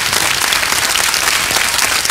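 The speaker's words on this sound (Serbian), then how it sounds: "molim vas, aplauz jedan" An audience claps in a brief, dense burst of applause, loud and close, with no talk over it.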